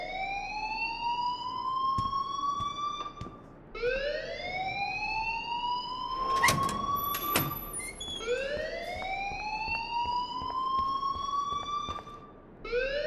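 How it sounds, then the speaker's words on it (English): Wailing siren-like alarm in Life is Strange Remastered, rising sweeps repeating about every three seconds, steady and moderately loud, with a brief clatter of noise in the middle. "please turn off that alarm since that's your job"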